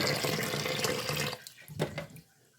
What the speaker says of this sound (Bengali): আর এই যে ডাউল ভিজে রাখছিলাম গুড়গুলো এগুলো ধুয়ে নিব